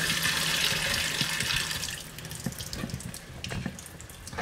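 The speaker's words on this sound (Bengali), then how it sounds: "মাংসগুলো একটু ভালো পরিষ্কার করে নিচ্ছে আপনি।" Running tap water splashing steadily into a sink as pieces of goat meat are rinsed by hand, a continuous close rush that eases slightly toward the end with a few small knocks.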